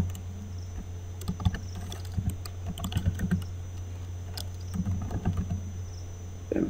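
Keys on a computer keyboard tap out a username and password in short irregular bursts of quiet clicks over a low steady hum, with brief pauses between runs.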